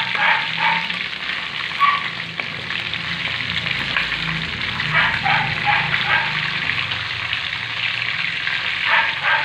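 Chicken pieces fry in a pan of hot oil with a steady close crackle and popping sizzle, while a person talks intermittently over the cooking.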